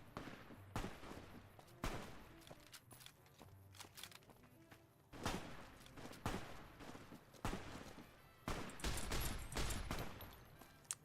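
Gunfire in Fallout New Vegas: sharp shots crack out in irregular bursts at a moderate distance, separated by quieter gaps with footsteps and ambient game sounds.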